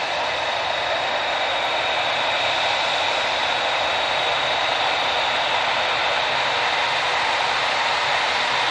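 An airplane passing at Manchester Airport, a steady broadband engine roar that holds loud and even throughout with no talk over it.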